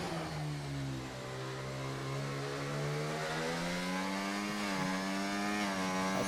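A racing car engine screams through a lap of the British circuit in a Formula 1 video game. Its whine climbs and settles in a continuous near drone as gears shift along the Wellington Straight.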